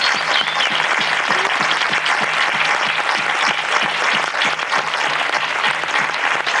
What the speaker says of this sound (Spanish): Un fuertísimo aplauso para ellos.